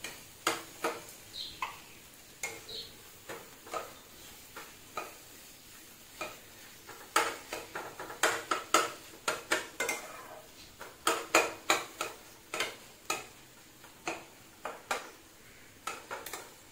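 Scrambled egg bhujia being stirred and fried in a pan: sharp, irregular scrapes and taps of a utensil against the pan repeat in clusters over a faint sizzle, close and fairly loud, with no voices.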